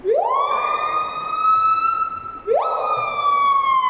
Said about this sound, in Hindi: नंबर 1 पीहा। इसकी आवाज को स्लो मोशन में करने पर ऐसा लगेगा जैसे कोई एम्बुलेंस या पुलिस की गाड़ी हो।